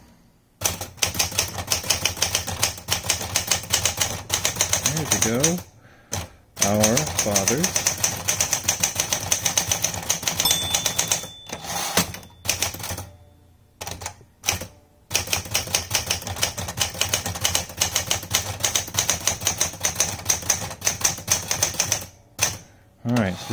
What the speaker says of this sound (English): All right, let's go ahead and start typing.